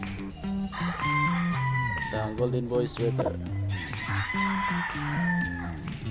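Imported gamefarm roosters crowing repeatedly, several loud, drawn-out calls close by, with someone talking between and over them.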